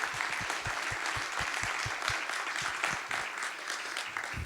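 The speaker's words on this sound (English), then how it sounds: "So round of applause for you guys for being amazing." Audience applause at a leadership forum, a full room clapping steadily with some rhythmic, heavier claps close by, sustained at an even level and fading slightly at the end.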